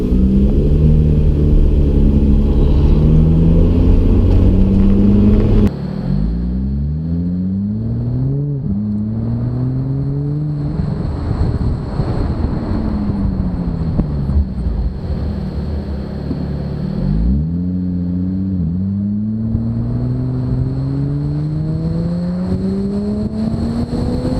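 A Lotus Evora GTE with a motorsport wing is driven on the road, its engine loud and close as it revs up through the gears again and again, with steady road roar and no talk.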